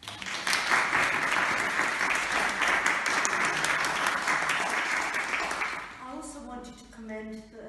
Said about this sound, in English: let's give Andrew first of all a big clap.